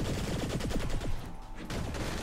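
Gunfire in the video game Saints Row: The Third, rapid bursts of shots crackling in quick succession, loud and continuous over a couple of seconds with a brief dip before firing resumes.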